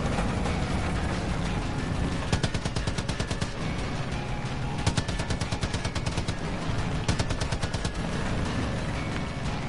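Rapid machine-gun bursts during an aerial dogfight in Far Cry 5, sharp repeated volleys over a continuous aircraft engine roar, loud and close with no talking.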